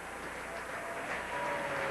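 Applause from an audience at a televised event, steady and moderately distant, with faint talk in the background.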